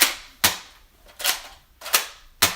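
Four sharp cap-gun style gunshot cracks ring out at a steady pace about half a second to a second apart, each bright snap decaying quickly, close and loud with nothing else around them.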